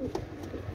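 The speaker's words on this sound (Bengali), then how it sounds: "এটা হচ্ছে পাকিস্তানি শিয়ালকুঠি কবুতর" Pakistani Sialkoti pigeon giving a soft, low coo, close and fairly faint over a steady background murmur, brief and unbroken.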